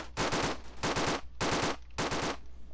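Automatic gunfire in the Roblox zeppelin battle game, shooting down an enemy: four sustained rapid-fire bursts, each lasting about half a second, loud and close with brief gaps between them.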